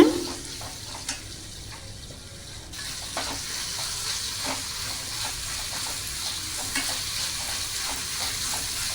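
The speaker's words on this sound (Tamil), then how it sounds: "கொத்தமல்லி ஆட் பண்ணிவிட்டு நல்லா வந்து மிக்ஸ் பண்ணி விட்டுடுங்க" Egg and onion stir-fry with coriander leaves being mixed in a pan: a steady sizzle of frying under repeated scraping and stirring taps of a spatula, close and continuous, with no talk.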